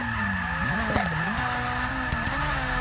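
Pro bracket drag race car engine at Monza, a steady droning roar with pitch swells and brief tire-squeal-like sweeps, loud and continuous with no talk.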